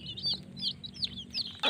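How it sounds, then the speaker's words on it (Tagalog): Close, repeated high chirping peeps from newly hatched chicks over a hen's steady low clucking murmur, with a sharper burst at the very end. "Ayan ang ating mga sisiw mga kaibigan na bagong pisa."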